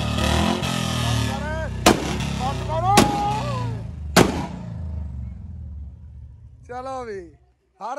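A Bullet motorcycle with exhaust backfiring like firecrackers sounds three sharp loud bangs over a steady engine rumble, heard close up as voices talk over it.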